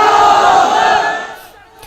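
A crowd of thousands shouting at Iqbal Maidan in Bhopal, a dense, loud, sustained roar of massed voices that fades toward the end.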